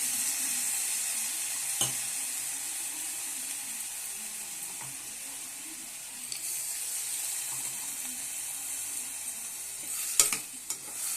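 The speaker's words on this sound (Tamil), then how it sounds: "இதில் இஞ்சி, பூண்டு, விழுது போட்டுறேன்." Ginger garlic paste sizzling in hot oil in a pan, a soft continuous hiss with occasional spatula scrapes and knocks, close but fairly quiet, with a few louder clatters near the end.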